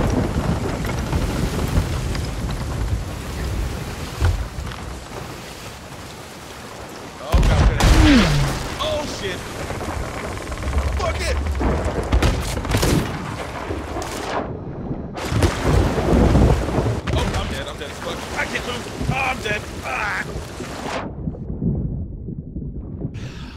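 Heavy cannon fire during a ship battle in Sea of Thieves, loud booming blasts and crashing impacts that arrive in bursts over rushing water and creaking wood, with a sudden cutoff near the end.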